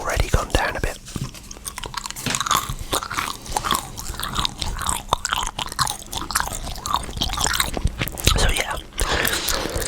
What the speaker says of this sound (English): So I'm going to add an extra gum because it's already gone down a bit.